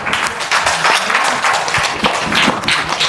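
Audience applause at a Jeevan Vidya introduction camp session in a Bhilwara hostel hall, a steady dense clapping from many hands that carries on without a break for the full few seconds.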